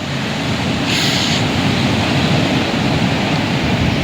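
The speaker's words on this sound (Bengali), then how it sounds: "বড় বড় ঢেউ আসতেছে।" Large waves surge onto Kuakata beach as a steady, loud broadband roar of surf, close and unbroken, with a brief hiss of spray near the start.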